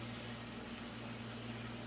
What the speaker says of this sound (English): This is starting to sizzle and to cook.